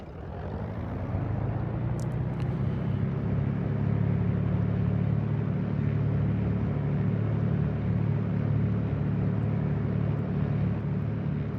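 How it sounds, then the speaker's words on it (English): The engine of a PZL-104 Wilga aircraft in a flight simulator drones in a steady low rumble, swelling in the first two seconds and then holding a constant throbbing hum. "let me know how that engine sound is"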